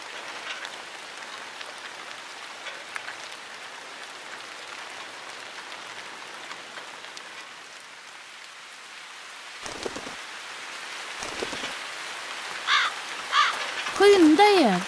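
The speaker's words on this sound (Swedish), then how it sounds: "Men oj, vad det regnar." Steady rain patters on a surface for the whole stretch, fairly soft. Near the end voices speak and make sliding, wavering calls.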